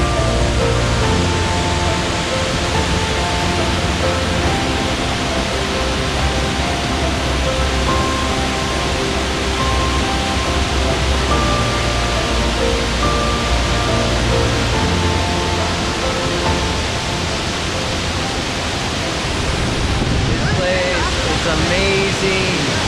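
Waterfalls at Letchworth State Park in upstate New York, a loud steady rushing roar of falling water that fills the whole span, with a voice speaking faintly underneath.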